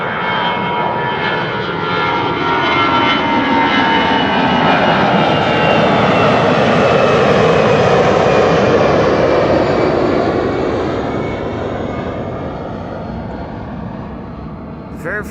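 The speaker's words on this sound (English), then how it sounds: "Shamrock flight 603 to Dublin, Ireland, on its way." Shamrock flight 603, an airliner bound for Dublin, departs Amsterdam Schiphol with a loud, sustained engine roar that rises to a peak midway and slowly tapers as it pulls away, a voice speaking over it.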